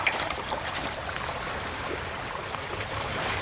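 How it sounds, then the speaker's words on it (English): Water boils in a pot at a rainy backpacking camp, a steady, close bubbling hiss mixed with rain pattering, continuous and fairly loud with no one speaking. "our water is boiling"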